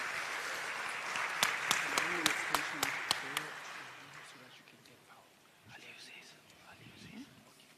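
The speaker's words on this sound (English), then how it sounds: "Can we give him a warm round of applause?" An audience at a municipal investment summit claps in a short burst of distinct hand claps that quickly thins and fades out, with soft murmuring voices continuing afterward.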